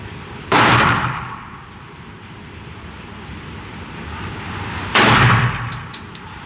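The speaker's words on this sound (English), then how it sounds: "we're gonna shoot a mag through it" An 81-year-old WW2 Remington Rand M1911A1 pistol fires two loud, sharp shots about four and a half seconds apart, each with a short ringing tail outdoors, separated by quiet background noise.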